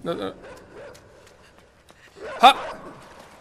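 In the video game Inside, a dog gives a single sharp bark near the middle, with low rumbling game ambience and a short burst of voice at the start.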